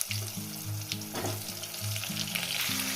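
Potato and papaya pieces frying in a pan after a cumin seed tempering, a steady close sizzle with a repeating low tonal pattern underneath and no talk.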